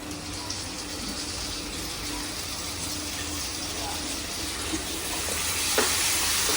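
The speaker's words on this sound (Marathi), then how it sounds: "आणि यामध्ये टाकायची आहे कोलंबी" Washed prawns hit a hot pan for prawn sukka masala, giving a continuous, even sizzle that swells slightly toward the end, close and moderately loud.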